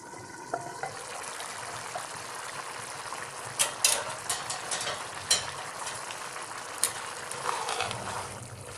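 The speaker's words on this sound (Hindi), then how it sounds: "उबाल आ रहा है" Water comes to a boil in a pot of chana pulao, a steady bubbling simmer with scattered sharper pops and crackles through the middle, close and moderate in level, with no talking.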